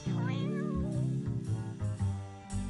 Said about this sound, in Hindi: फ्लफी एक बिल्ली है हेनरी।